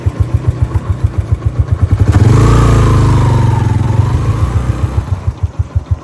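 A Yamaha YBR motorcycle climbs an off-road mountain track, its single-cylinder engine thumping in a fast, steady beat close by and swelling into a loud surge of revving midway before easing back.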